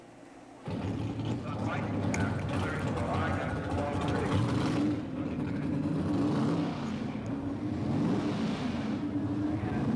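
An NHRA Pro Stock drag race car rolls toward the starting line, a loud sustained engine rumble that starts abruptly and holds steady with slight rises, with a commentator talking over it.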